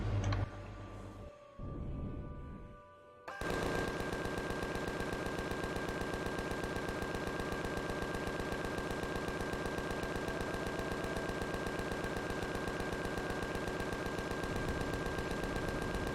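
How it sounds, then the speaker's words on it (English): Minigun turrets open fire in the Empyrion Galactic Survival video game as a continuous, rapid, loud buzzing stream of shots that runs unbroken after a brief quieter lead-in. "maybe my miniguns will have better luck. Okay. Turn on turrets."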